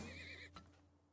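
Horses in the video game Turmoil neigh in a short, bright whinny that falls away quickly, followed by a faint clip-clop as it fades.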